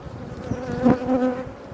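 Honey bees from a very large colony drone in a steady, close buzz during a hive inspection, with a swell of louder buzzing midway and no talking.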